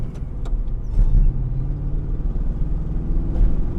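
Inside a Pontiac Fiero fitted with a crate V8 engine, the car pulls in third gear with a steady, loud low rumble and a few faint clicks above it.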